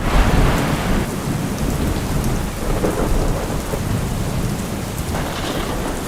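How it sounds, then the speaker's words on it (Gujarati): Heavy monsoon rain pours down loudly and continuously in Kutch, Gujarat, with a deep rumbling roar underneath and no voices. "કચ્છમાં સૌથી વધુ રાપરમાં સત્તર ઇંચ જેટલો વરસાદ પડતા સમગ્ર જળબંબાકાર થઈ ગયો"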